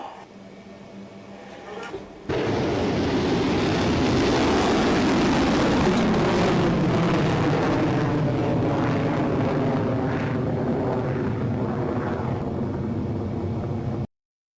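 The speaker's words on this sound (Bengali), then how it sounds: "ভারত ১লা মে ২০২৬-এ উড়িষ্যার উপকূলের ইন্টিগ্রেটেড টেস্ট রেঞ্জ হতে একটি লং রেঞ্জ অ্যান্টিশিপ মিসাইলের সফল টেস্ট ফায়ার সম্পন্ন করল" Long range anti-ship missile test-fired from a coastal test range off Odisha, a sudden loud roaring blast after a quiet start, sustained as a broad rushing roar that slowly fades over about twelve seconds.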